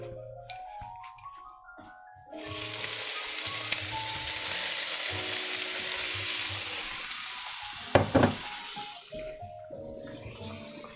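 Shrimp sizzle loudly in a hot pan as lemon juice hits them, a steady broad frying hiss that rises suddenly and holds, with a brief sharper burst of spattering near the end.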